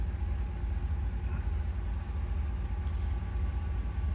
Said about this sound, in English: The compressor's on back there.